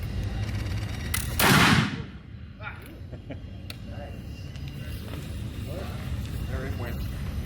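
A smoothbore musket loaded with buck and ball goes off with a slight hang fire on a damp day at Fort Madison, one loud, close blast that fades over about a second, followed by people talking.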